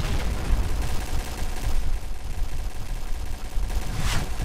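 Dense rapid gunfire in a shooting video game, continuous bursts of shots filling the whole stretch at steady loudness, with a brighter crack near the end.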